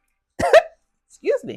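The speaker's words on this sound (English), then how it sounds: "that was a hiccup and a cough." A person hiccups once and then gives a short cough, two brief close vocal bursts separated by about half a second of silence.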